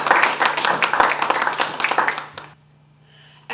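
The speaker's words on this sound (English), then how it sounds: "please give them a round of applause" An audience at a poetry event gives a steady round of applause, many hands clapping close and loud for a couple of seconds before stopping abruptly into near silence.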